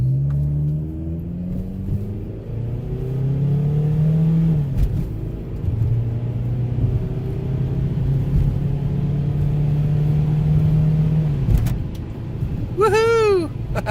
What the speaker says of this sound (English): Okay, ready 0 to 60 in the 1996 Camry.